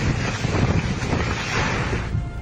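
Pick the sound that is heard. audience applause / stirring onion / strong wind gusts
strong wind gusts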